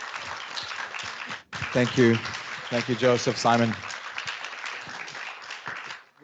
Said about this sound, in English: Could you please give everyone a round of applause as we finish up?